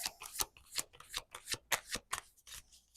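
A deck of tarot cards is shuffled and drawn up close, giving quick papery riffles and snaps in an uneven rhythm with no talking.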